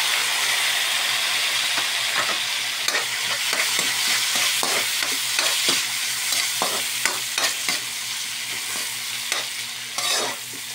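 Pineapple tidbits going into a hot frying pan while cooking beef calderita, giving a steady sizzle and frying hiss with repeated stirring scrapes and clinks throughout, fairly loud and close, with no talking.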